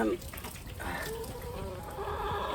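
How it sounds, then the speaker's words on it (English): Chickens cluck and chatter nearby, with a person's voice mixed in among the busy farmyard noise. "look at the chickens, bless their hearts, waiting for their water"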